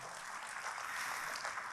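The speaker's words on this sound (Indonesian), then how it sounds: "Kita berikan tepuk tangan buat Tuhan." A church congregation clapping, a dense, even wash of applause held at a moderate, slightly distant level throughout, with no voices over it.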